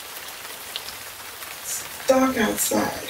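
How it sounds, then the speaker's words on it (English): Heavy rain pours steadily with a dense hiss of drops, and a voice speaks over it near the end. "the rain is pouring like crazy"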